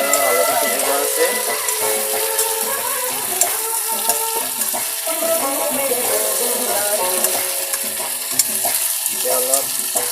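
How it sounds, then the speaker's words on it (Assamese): Tomato and potato pieces fry in hot oil with local chicken, a steady loud sizzle running throughout with frequent stirring clatter from a utensil against the pan. "তেলতে বিলাহী আলুটো ভাজি ল'ম"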